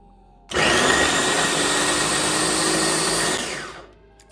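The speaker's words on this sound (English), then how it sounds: "I am going to put the cover on the food processor and blend this all up." A food processor blends green seasoning with hot peppers, starting abruptly into a loud, steady whirring roar that holds for about three seconds before winding down, close and without talking.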